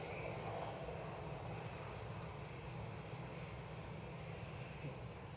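Fixed-wing airplane flying over Manchester Airport, a steady broadband engine roar holding loud and even throughout with no talking.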